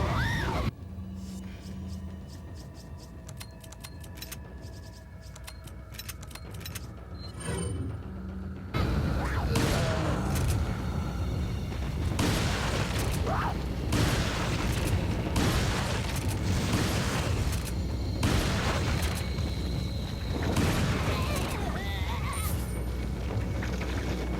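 Repeated shotgun blasts and gunfire bursts during a Resident Evil 4 combat round with a mine thrower and stock weapons, loud and dense after the first few seconds, sharp reports over a constant bed of game noise and creature sounds.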